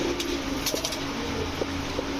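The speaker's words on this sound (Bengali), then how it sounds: "গিয়াসুল্লি লাল গিয়ারের একটা নর কবুতর" A male pigeon coos softly and low, with a few short rounded calls over a constant background hum, fairly close and without talk.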